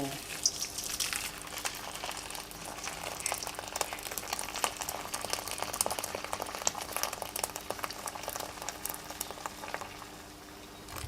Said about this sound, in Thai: เราก็จะใส่น้ำร้อนลงไปนะคะ ประมาณหนึ่งกิโล